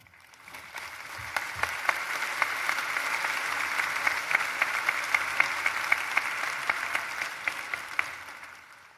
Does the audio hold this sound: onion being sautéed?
no